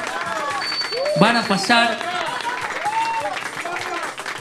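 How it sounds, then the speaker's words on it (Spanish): Contest audience applauds the finalists with a short burst of clapping under a loud announcer's voice, fading behind continued speech. "¡Aplausos!"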